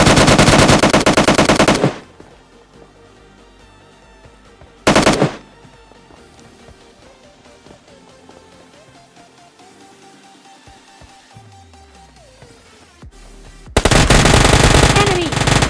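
Automatic UMP submachine gun fire in PUBG Mobile Lite, loud rapid bursts at the start and end with a single short burst in between, over quieter game sounds and music.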